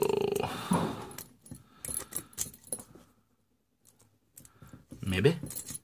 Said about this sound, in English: here's another set of Slaymaker keys. Let's see if one of these is it